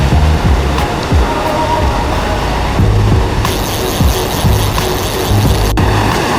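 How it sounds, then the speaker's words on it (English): Fast-flowing water on Connecticut's Scantic River, a loud continuous broadband rush and churn close by, steady throughout with no talk. "we have some fast water coming down here with a little bit of an eddy and some slack water at the seam here"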